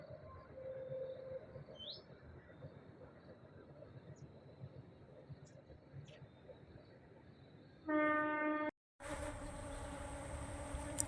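Indian honeybees hum in a steady, continuous buzz close by on a flowering amaranth plant, until a loud droning harmonic tone abruptly takes over near the end.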